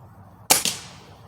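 Single shot from a Ruger Impact Max Elite .22 caliber gas piston air rifle firing a hollow point pellet, a sharp close crack followed quickly by a second snap, then quiet.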